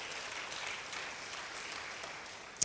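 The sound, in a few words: applause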